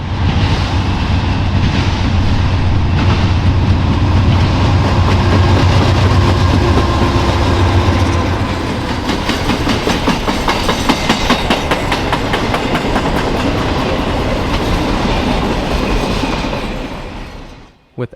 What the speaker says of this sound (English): With NS 9936 for power, Train 256 coasts through Romulus.